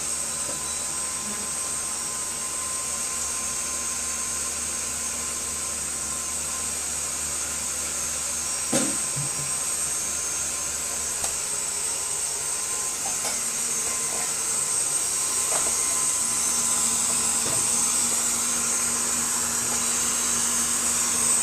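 An electric mixer whips egg white with jam in a steady, high-pitched whine that runs without a break and grows slightly louder near the end, with a few faint clicks underneath.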